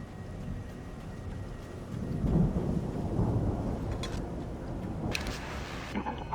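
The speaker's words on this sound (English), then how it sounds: "that storm we all felt coming is finally here" Thunderstorm in the video game Alan Wake: a steady rumbling wash of rain and low thunder that swells for a few seconds midway, with faint higher crackles near the end and no voices.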